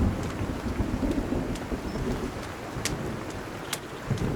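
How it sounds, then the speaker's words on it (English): Steady rain with rolling thunder in the survival video game Sons of the Forest, a constant wash of rainfall under low rumbles with a few brief sharper cracks, no voices. "Rainy out."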